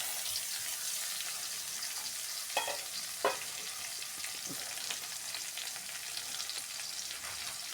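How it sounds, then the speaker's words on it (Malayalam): Tomato frying in a pan in a home kitchen, a steady close sizzle with a few distinct scraping stirs and clunks of a spoon against the pan, moderately loud and continuous throughout. "ഇത് നമുക്ക് ഈ തക്കാളി കൂടി ഇതിലേക്ക് ഇടാം."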